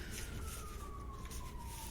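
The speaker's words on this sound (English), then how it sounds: "Cue siren." A siren sound effect wails steadily with a slowly falling tone, faint under a broad wash of background noise.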